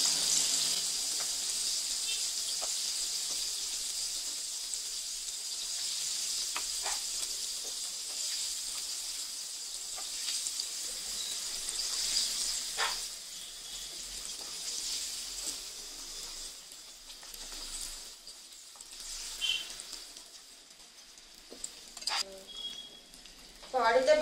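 Chicken wings deep-fry in oil with a steady, even sizzle that hisses close and continuous, broken by occasional small clinks and scrapes as the pieces are handled, no voices.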